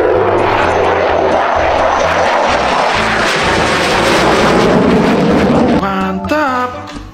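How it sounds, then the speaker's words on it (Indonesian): A toy super jet airplane gives off a loud, steady roaring engine whine that runs continuously, then rises into a warbling pitch sweep near the end. "Wih, ini ada super jet."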